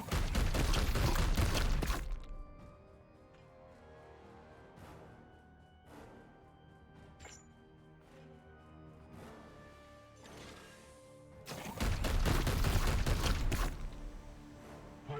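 Heavy weapon fire in Warhammer 40,000: Chaos Gate – Daemonhunters comes as two loud, dense bursts of crashing impacts at the start and end, separated by a long quieter stretch of faint mechanical clanks and game ambience.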